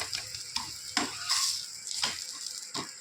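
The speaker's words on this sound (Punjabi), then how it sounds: "ਇਧਰ ਲੱਗ ਗਿਆ ਘਿਓ ਪਰੌਂਠੇ ਨੂੰ" Cauliflower paratha sizzles in ghee on a hot griddle, a close, steady frying hiss punctuated by soft scraping and tapping as it is turned and pressed.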